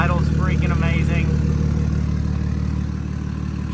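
A BMW X5 with an M57 diesel engine and an unfinished exhaust idles loudly and steadily nearby, a deep continuous rumble, while someone talks over it.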